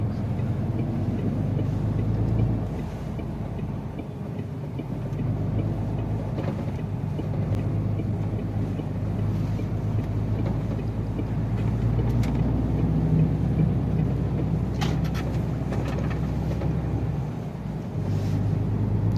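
A MAN truck is heard from inside the cab on the road as a steady, continuous low engine and road drone with some wind rush. Speed changes are not clearly audible, and no one speaks.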